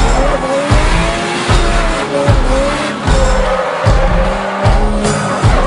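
A drifting car revs hard with loud engine surges and tire squeal, sliding in repeated pulses of throttle, close and intense throughout.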